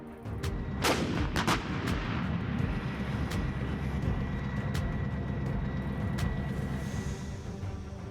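A Panzerhaubitze 2000 self-propelled howitzer firing artillery in Ukrainian service, with several sharp, loud booms at irregular intervals over a continuous rumbling background of engine and wind noise.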